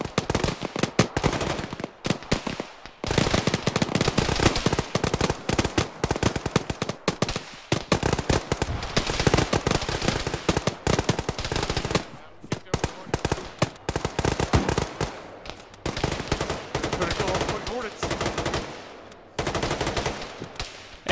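Heavy machine-gun and rifle fire in Arma, during a ShackTac squad operation in Guyosabir Valley, comes in long loud bursts broken by short pauses, with voices talking among the shots.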